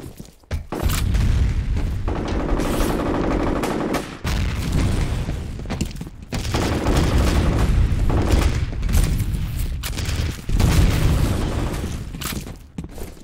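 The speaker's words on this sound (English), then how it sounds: "Grenade out! Fire in the hole!" Grenade blasts and heavy gunfire in a combat firefight, loud booms and continuous shooting filling the clip with short gaps between bursts.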